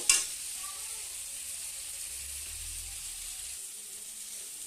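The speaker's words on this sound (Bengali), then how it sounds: "গ্যাসের ফ্লেমটাকে মিডিয়াম করে জলপাইটাকে হালকা ভেজে তুলে তুলব।" Olives fry lightly in a pan over a medium gas flame, giving a steady, close hiss of oil with a brief sharp crackle at the start and a low rumble midway.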